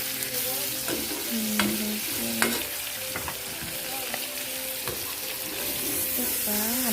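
Pork is stirred and fried in a pan, giving a constant bright sizzle with repeated scraping strokes and spoon clinks in an irregular rhythm, heard up close with no voices.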